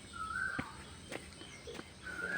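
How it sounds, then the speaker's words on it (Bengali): Birds call overhead in a natural forest along a dirt path near a waterfall on a mild morning, with a few short high calls and chirps scattered over quiet ambience and soft footsteps. "আর উপরে পাখিদের ডাক।"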